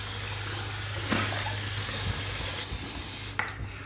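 Water splashing at a sink as a face is wetted before a razor shave, a steady running-water hiss with a few close splashes and drips, moderately loud, a low hum beneath, no talking.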